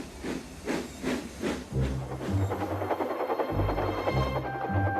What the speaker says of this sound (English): Thomas puffed across the countryside.